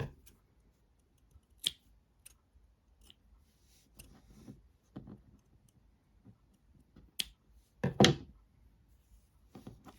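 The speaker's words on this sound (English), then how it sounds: "And I'm going to snip this." Scissors snip through crochet yarn on a small amigurumi doll: a few sharp, close clicks spread across quiet, with one louder, longer cut near the end.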